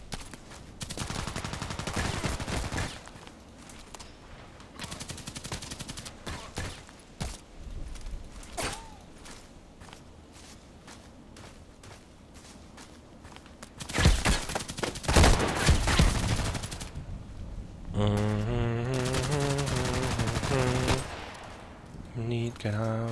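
Close-range gunfire in a sniper shooter set at an old sawmill comes in scattered sharp shots and rattling bursts, with mechanical creaks, footsteps and a voice talking in places.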